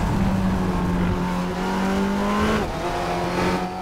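A race car in RaceRoom racing game accelerating hard out of a corner, a loud, close engine note rising in pitch through the gears with a brief shift, steady and continuous with no talk.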